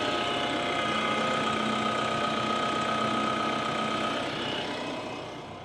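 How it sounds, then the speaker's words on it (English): A tractor engine runs steadily at a constant idle-like drone while the front loader is raised, loud and close throughout, fading slightly at the end with no voices. "I'm going to raise up the loader and see if I think it's almost level with the cab"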